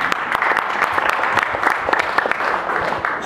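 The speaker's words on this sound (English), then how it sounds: "So give yourself a round of applause." Crowd applause at an outdoor Tea Party picnic: a lively burst of many hands clapping, fairly loud and close, sustained with scattered sharp claps standing out.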